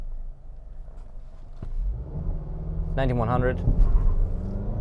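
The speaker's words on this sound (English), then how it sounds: "we shall start it off with a launch" A 2021 Nissan Rogue SV Premium launching from a brake-torqued stop with its CVT in sport mode, engine and road rumble rising steadily and loud throughout, with a voice speaking briefly over it partway through.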